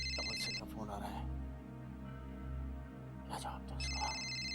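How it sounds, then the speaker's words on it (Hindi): A telephone ringing indoors in a drama scene: two short electronic ring bursts separated by a pause, heard close and clear over a low steady hum, with a voice speaking between the rings. "फोन आ रहा है"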